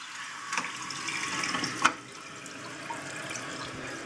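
A rebuilt household toilet flushes and refills, giving a continuous rush of running water with a sharp clunk partway through as the tank starts to fill.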